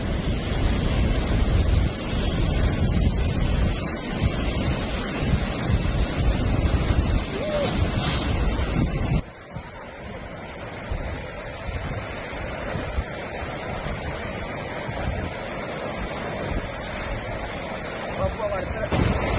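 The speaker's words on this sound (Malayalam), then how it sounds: "പുഴ കാണിച്ചു തരാം" A river in flood flowing hard, with loud continuous rushing water and gusts of wind buffeting the microphone throughout.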